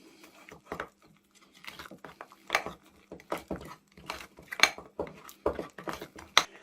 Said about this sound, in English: Along with a tablespoonful of cream. And mix that all in together.